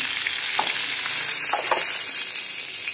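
Cumin seeds tempering in hot oil on a tawa for a vegetable dish, a loud, steady crackling sizzle that fills the whole stretch. Faint stirring clicks sound over it and no one speaks.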